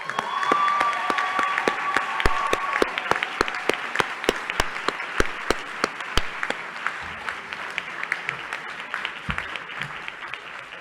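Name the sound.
audience applause at graduation ceremony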